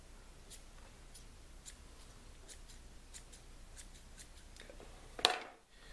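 Deerskin bag string being snipped, a single sharp cut near the end after soft faint ticks, alone with no talk.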